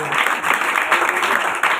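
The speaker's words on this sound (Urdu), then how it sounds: "زوردار تالیاں دیا خدا کے لیے" A church congregation applauding loudly, a dense, sustained burst of many hands clapping together that fills the space evenly throughout.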